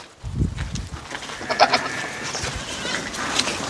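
Goats and sheep on a farm in Hurghada, Egypt, bleat several times, short nasal cries at close range over a low background rustle.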